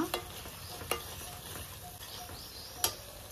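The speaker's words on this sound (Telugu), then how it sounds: "ఇట్లా ఒక 3 నుండి 5 నిమిషాలు ఫ్రై చేసుకోవాలి. స్లో ఫ్లేమ్లోనే ఫ్రై చేసుకోవాలన్నమాట." Freshly pounded ginger garlic paste frying on a low flame for mushroom pickle, a soft steady sizzle with a few sharp clicks of a spoon against the pan.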